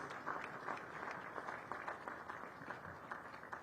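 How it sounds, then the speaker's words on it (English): A standing audience at the Uganda Development Finance Summit gives a round of applause to the president and first lady, a dense, even patter of many hands clapping at moderate distance for a few seconds. "Let's give a round of applause to His Excellency and Mama Janet."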